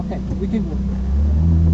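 Ferrari 458 Italia accelerating through the gears on a race track in Italy, a loud continuous engine drone with rising revs, heard from inside the car under a man's spoken instructions.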